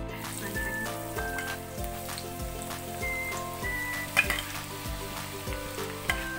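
Half a kilo of onions fry in hot oil with a soft, continuous sizzle and faint crackle, set against a steady rhythmic musical background; no voices are heard.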